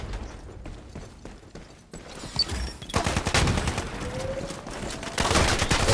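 Rapid bursts of P90 submachine gun fire from a video game crackle in several volleys, dense and loud, with mechanical clicks in between.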